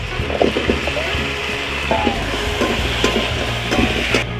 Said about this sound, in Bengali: এখন আমি মাংসটা উঠিয়ে দিচ্ছি আর তার সাথে আলুও দিয়ে দিচ্ছি